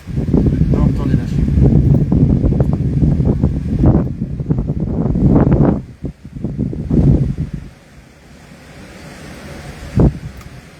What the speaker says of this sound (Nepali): टाइफुन चलिरहेछ अहिले।